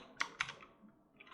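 A few sharp keystrokes on a computer keyboard, close and quiet, two distinct clicks then lighter taps, while text is typed into a field during 3D rendering work.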